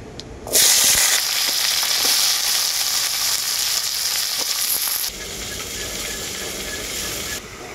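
Potatoes, eggplant and pointed gourd dropped into hot oil burst into a loud, close sizzle that holds steady, then eases to a lower frying hiss for the last few seconds.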